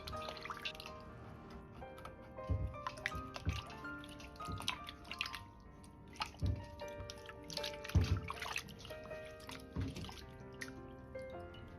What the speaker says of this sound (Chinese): 然后放入水中清洗干净